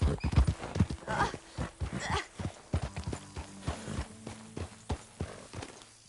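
Horse hooves clip-clop in a steady walking rhythm with a whinny near the start, heard up close alongside faint game-like background tones, from the video game Red Dead Redemption 2.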